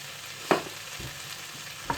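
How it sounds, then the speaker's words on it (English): Spaghetti stir-fried with chicken sizzling softly in a pan as it is stirred, with two sharp utensil scrapes against the pan over a low, even frying hiss and no talking. "give that a stir"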